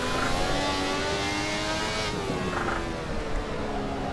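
A Ferrari 312T Formula One engine in Assetto Corsa, revving hard and steadily climbing under full throttle, loud and close, with no talk.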